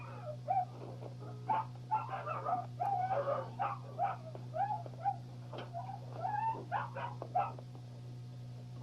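A weight-pulling dog vocalizes in a yard, a series of yelping barks and whiny whimpers in irregular bursts, fairly faint, over a steady low electrical hum.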